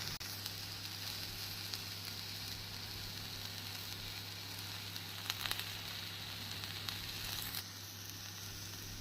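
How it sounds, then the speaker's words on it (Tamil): A carrot onion dosa cooks on a pan over medium heat with a faint, steady sizzle under a low hum, plus a couple of soft crackling bursts near the end. "நாம் மிதமான தீயில் ஒரு 2 நிமிடம் வைத்தோம் என்றால் கேரட், வெங்காயம் அனைத்தும் நன்றாக வெந்து வந்துவிடும்"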